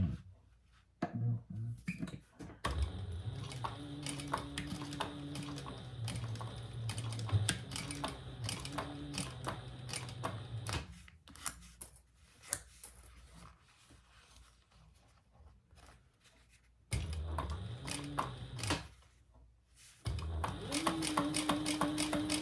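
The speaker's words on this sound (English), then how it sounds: "we're just going to sew at a 1/8 inch seam allowance" A sewing machine stitches a fine 1/8 inch seam on a hip bag, with a steady motor whir and rapid needle chatter in several runs of a few seconds each, broken by short pauses, close by.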